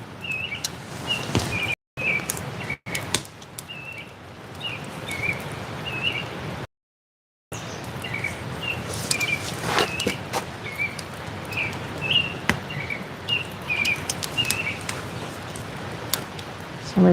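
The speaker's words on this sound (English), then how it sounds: "There's your authentic Alaskan songbird chirping for you." An Alaskan songbird near a river at a Seward campsite repeats short, bright chirps again and again over soft outdoor background noise, fairly close and clear.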